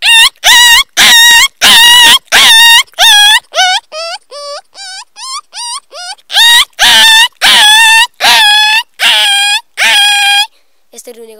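A human voice imitates a scolded little puppy whimpering: a long run of high, wavering whines and yelps in quick pulses, loud and close, dipping softer in the middle before rising again.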